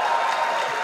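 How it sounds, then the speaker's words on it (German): Theatre audience applause at a live cabaret show, a brief wash of many clapping hands heard from the room, steady and moderately loud, with some voices underneath. "Applaus!"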